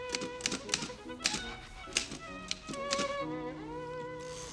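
A typewriter clacks in an office scene from the film Schindler's List, a fast, close run of uneven key strikes over soft background music.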